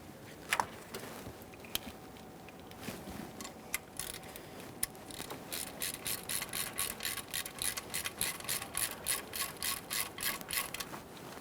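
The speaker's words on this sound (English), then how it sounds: "Go ahead and start them in by hand and snug them up using an E6 Torx socket." A ratchet with an E6 Torx socket snugs up plenum studs on a 2011-2020 Toyota Sienna 3.5L V6, starting with scattered faint clicks and settling into a steady run of rhythmic ratcheting strokes, close and clear.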